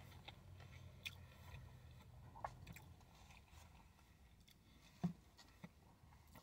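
Someone bites and chews a crispy chicken sandwich from Sonic, producing quiet, close crunches and a few sharp snaps, with the sharpest one about two-thirds of the way through.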